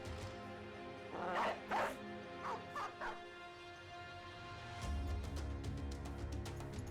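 Dogs bark in Battle Brothers, several sharp barks in two quick clusters, near and moderately loud, over a low game ambience that swells near the end.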